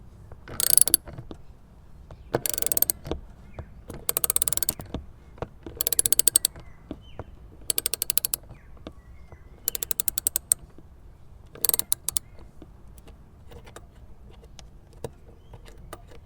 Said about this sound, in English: is 10mm for all of the bolts that I have to unscrew